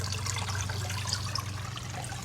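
Water runs steadily from the outflow of a backyard pond with its waterfall removed after a leak, a continuous soft trickle and splash heard close by, alone without talk.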